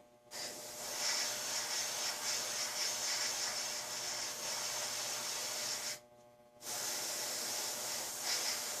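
A continuous close hissing spray of primer onto cardboard runs for several seconds, stops briefly, then resumes for another couple of seconds.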